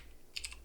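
Computer keyboard typing during a Rimworld game session, a brief burst of three or four quick, faint key clicks close to the microphone, with no talking.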